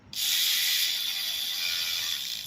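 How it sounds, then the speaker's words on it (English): A ratchet tightens a 10mm nut on a 2003–2008 Toyota Corolla during valve cover gasket work, making a fast, steady buzzing run of clicks, close and loud, with no talking. "Now you tighten back up that 10mm nut right here."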